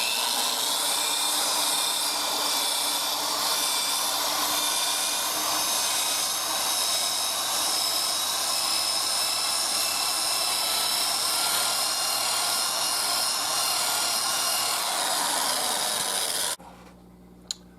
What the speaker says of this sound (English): And here we are giving the front a good polishing.